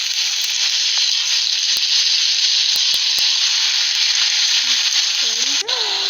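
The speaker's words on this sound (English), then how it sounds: "On medium heat, lay your steaks down." Steaks searing in a pan of melted unsalted butter and fresh garlic over medium heat, a loud, steady, close sizzle that carries on without a break, with a few faint clicks and no voices.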